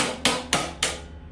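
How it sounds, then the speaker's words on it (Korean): Three evenly spaced, sharp metallic taps of a hammer seating a tight-fitting part on a Crossover stove during assembly, close and clear with short ringing decay between strikes. "망치로 톡톡톡 두들겨서 끝까지 밀어주면 됩니다"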